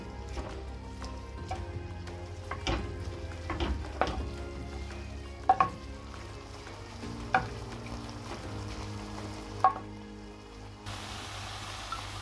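Fish filling for Moroccan pastilla cooks in a pan and is broken up with a spoon, a soft continuous sizzle under scattered tapping and scraping of the spoon against the pan, with no voices.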